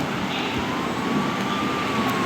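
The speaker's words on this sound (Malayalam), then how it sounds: "നമുക്ക് ആംബുലൻസിന് വെട്ടിക്കാം." An ambulance siren wails on a road amid a steady wash of traffic noise, its tone gliding slowly downward as it passes at moderate distance.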